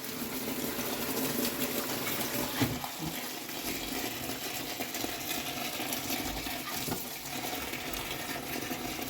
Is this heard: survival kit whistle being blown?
no